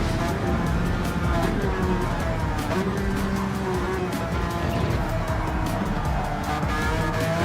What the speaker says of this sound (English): Ooh, the Enzo Ferrari sounds good.